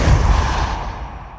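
The Depulso repelling spell in Hogwarts Legacy goes off as a loud, dense burst of force, rumbling heavily at first and trailing into a fading rush before a sharp new hit right at the end.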